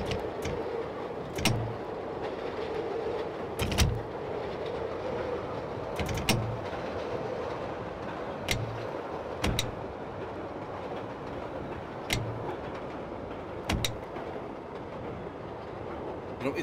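A Chicago Brown Line train rolls past in the Railfan PS3 simulator, a steady rumbling roar broken by repeated sharp clickety-clack wheel beats over rail joints at uneven intervals.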